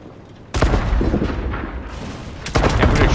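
Heavy tank cannons from a German Maus in World of Tanks boom twice in a battle, a loud blast followed by a long rumbling tail and then a second shot near the end.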